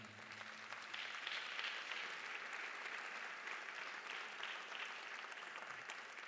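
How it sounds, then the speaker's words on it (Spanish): Congregation in a church service applauding loudly for the Lord, a dense, steady wash of many hands clapping at once, sustained without a break and with little talk over it. "Den un aplauso fuerte al Señor"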